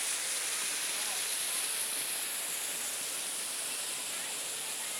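Steady, broad rushing roar of Elakala Falls in West Virginia, heard from nearby as an unbroken wash of falling water, even in level for the whole stretch and with no voices.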